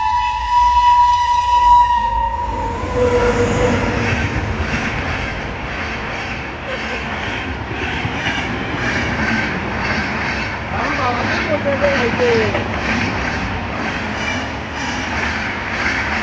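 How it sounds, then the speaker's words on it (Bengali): A train rolls past a railway level crossing with the gate down, a loud sustained rumble of wagons following a brief horn tone at the start, heard up close in a steady roar. "এখানে ট্রেন আসছে কিছু গাড়ি মনে হয় নাকি রেল গেট পড়েছে"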